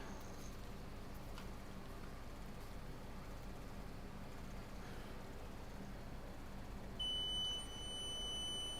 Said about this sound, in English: that's a legitimate continuity beep too